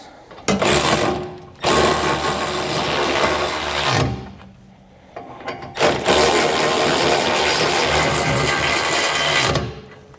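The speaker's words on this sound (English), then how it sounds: "now I'm going to come back with an impact and just snug them up" Impact wrench with a 3/4 inch socket snugging the bolts of a B&W Companion OEM 5th wheel hitch on a 2020 GMC Sierra, two long loud rattling bursts of hammering with a short pause between them, close up.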